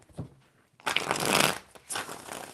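Tarot cards shuffled by hand in several quick riffling bursts, crisp and close, with short pauses between the flurries and no talking.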